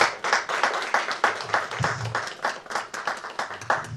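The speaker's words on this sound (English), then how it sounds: "Can we put our hands together to welcome ourselves into this training, please? Let's clap ourselves." A small group claps at the welcome to a COVID-19 vaccination training held in a church, a steady patter of hand clapping that carries on for several seconds with no talk over it.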